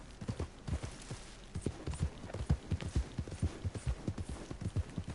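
Horse hooves clip-clop at a steady trot in the Red Dead Redemption 2 game, close and clear with a regular rhythm throughout and no talk over them.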